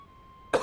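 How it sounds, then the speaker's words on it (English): A single sharp cough bursts out after a stretch of near-quiet room tone with a faint steady hum, close and loud, right at the end. "As I cough away."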